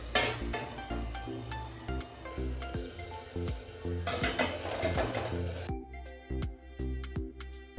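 Potatoes and tomato fry in oil in a pan for misal, a steady sizzle broken by repeated clinks and scrapes of stirring, close and fairly loud, with no talking.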